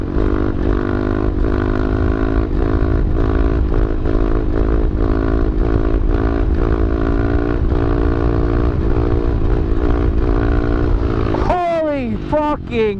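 A pit bike engine drones loud and steady for a long stretch with rhythmic surges while the rider holds wheelies, then cuts out abruptly as a voice cries out near the end.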